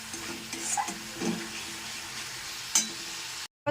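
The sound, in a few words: stirring ginger garlic paste frying in pan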